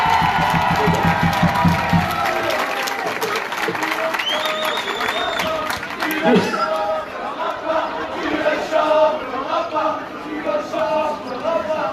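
A festival audience at a banda brass band event in Mazères bursts into applause and cheers, loud and crowded, with an announcer's voice talking over the clapping.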